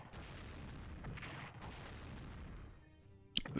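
Naval artillery striking a battleship in the Strategic Command World War 2 strategy game: a sustained rumbling barrage of booming fire for about two and a half seconds, then a brief lull and a sharp impact at the end.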